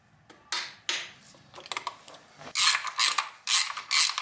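Ratchet tightening the oil filter housing on a VW Caddy to 25 Nm, close and loud with repeated bursts of fast clicking in short rhythmic strokes and no talking.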